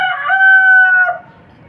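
A single rooster crows loudly and close by, one drawn-out call lasting about a second before trailing off.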